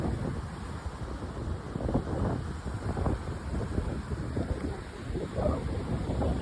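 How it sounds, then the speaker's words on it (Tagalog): Strong wind buffets the microphone on a cold beach while rough sea waves surge and rumble, a loud continuous low roar with gusty swells and no talking. "ang lakas ng alon ng dagat, oh. Kita nyo. Malakas pa yung hangin."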